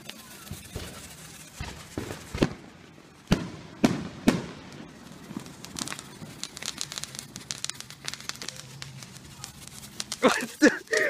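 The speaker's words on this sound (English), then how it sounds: "Oh, this is a flashbang, bro." Flashbang-type fireworks set off several at a time go off in a run of sharp close cracks and pops, followed by continuous fizzing and crackling that carries to the end, with bursts of louder popping near the finish.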